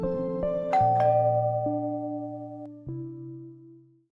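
Bell notification sound effect: a series of bright chime strikes with layered tones ringing out, each note overlapping the last before decaying to silence, with no voice present.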